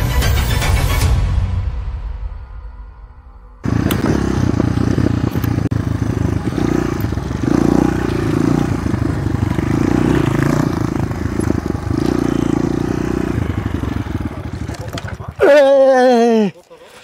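A BamX motorcycle ridden on a mountain trail makes a steady, rumbling, clattering engine drone through most of the stretch. It surges louder in a couple of spots, and a brief voice follows at the end.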